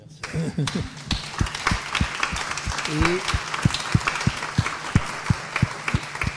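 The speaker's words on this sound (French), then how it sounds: "On les remercie, on les applaudit." Applause from an audience thanking the speakers at a round-table session on data collaboration, rhythmic claps standing out clearly, with a brief voice heard near the start.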